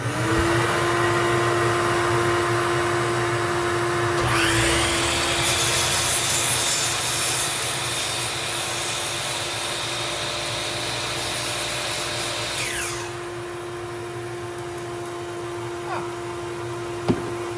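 A power tool cuts into wood for a pickup truck repair, a steady motor drone joined by a harsher rasping bite through the board for several seconds before easing back to the running hum.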